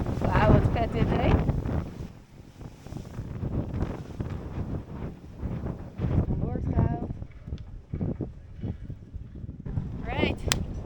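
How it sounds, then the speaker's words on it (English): Gusty wind at sea batters the microphone in uneven surges aboard a Swan 65 sailboat in Antigua before a race, with muffled voices coming and going beneath the rumble. "it's quite windy, a bit gusty"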